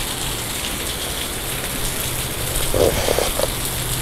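Heavy rain pours outside during a flood, a dense, loud, continuous hiss of water drumming on surfaces with a few faint knocks near the end.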